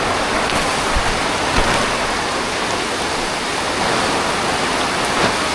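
Heavy rain pouring in Singapore, a dense, continuous hiss of downpour filling the air at steady loudness with no voices.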